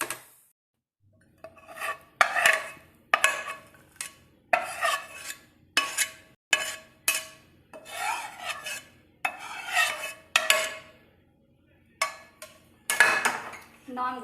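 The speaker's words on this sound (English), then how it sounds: "now we are going to mix it with paneer" Fried onion is mixed with paneer in a bowl, producing about a dozen close scraping and rubbing strokes in an uneven rhythm, separated by short quiet gaps.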